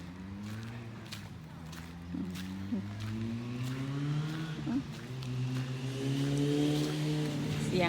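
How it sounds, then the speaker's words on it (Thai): A loud motorcycle engine passes nearby, its droning tone rising and falling as it revs and moves by. "รถมอไซค์เนาะ ก็จะดังกว่าบ้านเราหน่อย"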